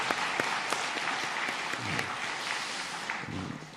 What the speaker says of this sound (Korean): 우리 박수 한번 하도록 하겠습니다.